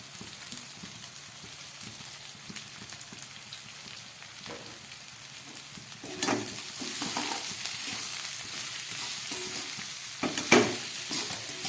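Flattened rice stirred into a pan of vegetables fried in spices, a steady soft sizzle with scraping and stirring strokes that grow a little louder partway through, no voices.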